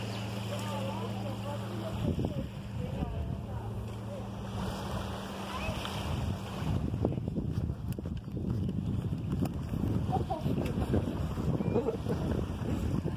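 A boat and gusting wind by a wooden pier at Canto Grande in Bombinhas, Santa Catarina. A low engine hum drifts in the opening seconds, then rough wind buffets the microphone continuously.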